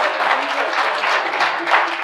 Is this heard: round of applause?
yes